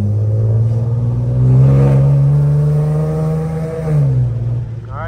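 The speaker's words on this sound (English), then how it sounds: "So now that you have warmed up your car, go ahead and start driving it." A 2008-2013 Infiniti G37 coupe base model drives off and accelerates, a loud, close engine drone that climbs in pitch, then eases as it slows, with brief talk near the end.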